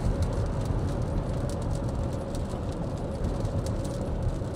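A train rumbles steadily through a stormy evening in St. Louis during tornado warnings, a dense continuous roar with a faint tonal hum, heard from some distance and mixed with wind or rain noise.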